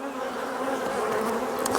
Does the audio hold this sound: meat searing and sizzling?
no